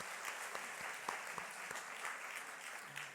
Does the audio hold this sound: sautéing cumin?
no